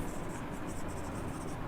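Pen or pencil writing on paper, a continuous close scratching with fine stroke-by-stroke texture, steady and fairly soft, with no talk over it.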